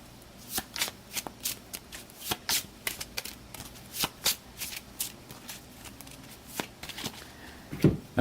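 Playing cards are shuffled by hand for a tabletop boxing game, producing a series of crisp riffling bursts at an irregular rhythm, close and fairly quiet, with no one talking.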